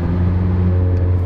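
A McLaren 720S supercar engine drones close and loud with a steady, deep harmonic growl that holds evenly throughout the short stretch under acceleration.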